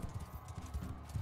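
Horse hooves in the Bannerlord video game, a quick run of soft clip-clop beats, quiet and fairly close, with no voices.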